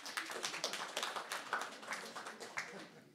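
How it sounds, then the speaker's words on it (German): A comedy club audience in Berlin claps softly and steadily, a dense patter of light hand claps with no single loud burst, fading slightly toward the end. "Merkt ihr, wie sanft die klatschen?"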